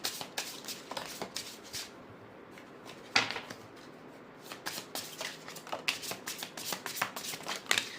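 Tarot cards being shuffled by hand in quick, crisp riffling bursts, close and clear, with short pauses between rounds.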